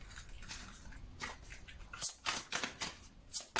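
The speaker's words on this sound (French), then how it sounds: "j'ai oublié de vous tirer une carte ici" Tarot cards being shuffled and drawn by hand, a soft papery rustle that turns into a run of crisp, close snaps and flicks in the second half.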